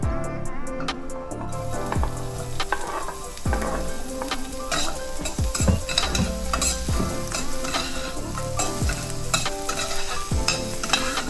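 Onions sizzling in melted fat in a pan, a continuous frying hiss broken by repeated scraping stirs and clicks of a utensil against the pan, close up and with no talking.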